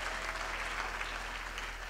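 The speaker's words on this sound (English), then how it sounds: "Please give them a big round of applause" An audience at a university graduation ceremony gives sustained applause, a steady wash of many hands clapping that stays even and moderately loud throughout, heard from within a large hall.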